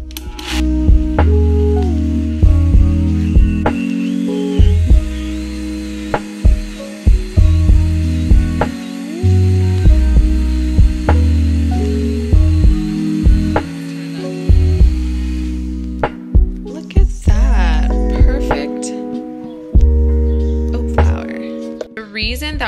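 A Vitamix high-speed blender grinds rolled oats into oat flour, giving a loud, steady motor whine with shifting pitch and brief dips as the load changes, while voices talk over it.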